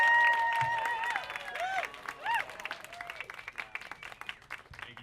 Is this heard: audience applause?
yes